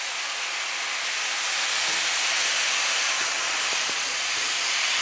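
Water is poured into arborio rice toasting in a hot pan for mushroom risotto, producing a loud, steady sizzling hiss that holds for several seconds.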